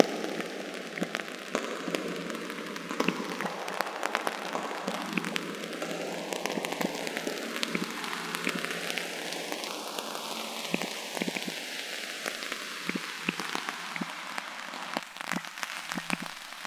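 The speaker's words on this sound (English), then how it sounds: "we can hear these ripples in the phase" Crackly, noisy audio run through a filter that adds rippling phase effects, with sweeping comb-like notches rising and falling over steady rain-like static for about seventeen seconds, fairly quiet and with no voices.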